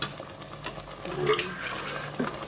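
Water that was used to wash ground onion is poured into a curry broth for a fish dish: a soft, continuous splashing trickle runs for a couple of seconds close by, with no talk over it.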